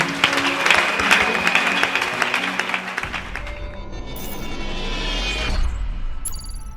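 A church congregation claps loudly and rapidly in praise. After a few seconds the applause gives way to a softer, more muffled room sound with some faint tones near the end.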